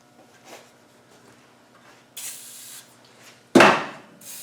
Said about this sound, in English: We'll put some penetrating oil on that.